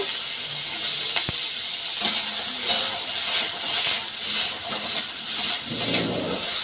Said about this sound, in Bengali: আবারও একটু তেল দিয়ে কড়াইতে কাঁকরোলগুলো ছেড়ে দিচ্ছি। কাঁকরোলটা এবার একটু ভেজে নেব।